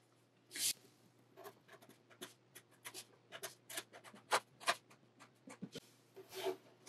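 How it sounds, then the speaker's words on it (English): Pen or marker writing on a strip of paper being made into a Möbius strip ornament, giving a series of short, quiet scratchy strokes in an irregular rhythm, close up, with no talking. "So we're going to start by writing our message."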